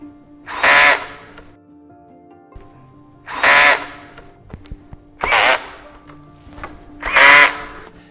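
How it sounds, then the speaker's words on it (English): A power drill drives screws while a standing desk is put together, sounding four loud, close bursts of whirring, each about half a second, with quiet pauses and small clicks of parts between them. "To avoid having a wobbly desk, make sure that you tighten the screws thoroughly."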